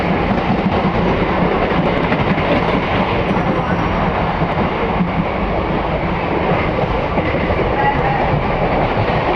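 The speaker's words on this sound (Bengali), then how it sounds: "ট্রেনটা চলছে আর পুরো ফাঁকা ট্রেনটা" A moving train, nearly empty, rumbles steadily with a continuous loud clickety-clack of wheels on the rails, heard from inside a carriage throughout.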